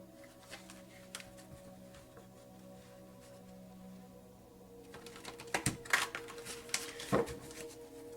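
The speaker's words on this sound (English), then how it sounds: "Again, with the shuffling, please no shuffle shaming in my comment section." Tarot cards being shuffled by hand, a run of light crisp flicks and taps near the microphone that grows busier and louder toward the end, with a faint steady hum underneath.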